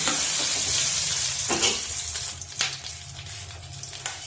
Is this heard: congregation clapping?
no